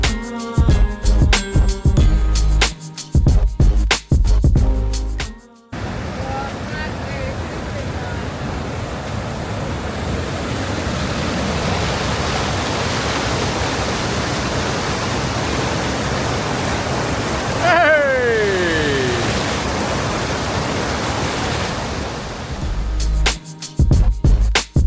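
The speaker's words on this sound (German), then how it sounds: "Schöner Wasserfall. Mega schöner Wasserfall." Maruia Falls on New Zealand's South Island, a broad waterfall roaring steadily in a loud, dense rush. Brief wind or handling noise bookends the sound at the start and end, and no one speaks over the water.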